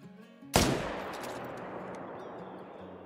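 A sharp, loud shot aimed at a moose in the hunting game Call of the Wild, fired from a camo bow, with a sudden bright crack followed by a long reverberating tail that slowly fades over quiet ambient game sounds.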